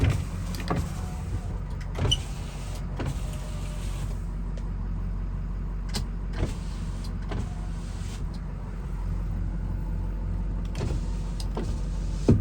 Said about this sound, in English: go ahead and test the windows